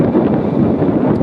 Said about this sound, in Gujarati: પવન આવે એટલે હાથ આડું રાખવું પડે.